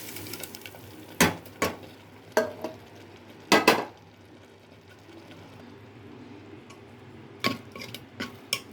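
Spinach dal being stirred into tempering oil in a pot: a ladle scrapes and clinks against the metal, making several sharp knocks spread across a quiet background with a low simmer.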